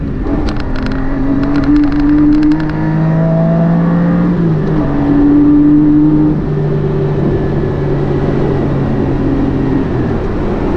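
A Porsche 718 Spyder's 4-liter engine roars close up with the roof off, a loud sustained drone that shifts pitch as it revs and changes gear, with no talking.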